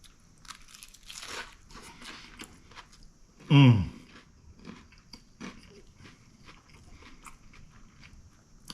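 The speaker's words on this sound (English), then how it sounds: "That fresh sauce, the crunch of that fresh lettuce, and crispy fish, the toasted bun." A big, loud bite into a crispy fried crappie fish sandwich with lettuce on a toasted bun gives a sharp crunch, followed by quieter chewing and soft crunching close by.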